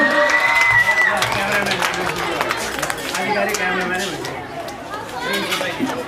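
Applause and cheering rise from an audience welcoming a student at a talent show, with scattered claps and crowd chatter mixed under a talking voice and a brief tone near the start.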